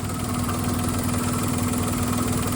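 A Daihatsu Naked engine idles steadily up close, a continuous low hum with a faint rhythmic rubbing or scraping that repeats with each rotation, no voices present.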